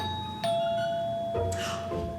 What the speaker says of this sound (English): We take a step forward and we ring the doorbell.